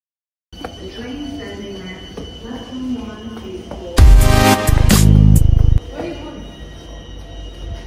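A steady low rumble of a moving train, broken midway by a loud rattling, clattering surge that lasts a couple of seconds before fading back.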